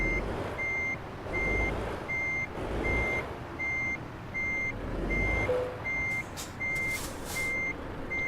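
In Euro Truck Simulator 2, a truck backing up gives off evenly spaced reversing beeps over a low engine rumble, with a short hiss of air brakes near the end.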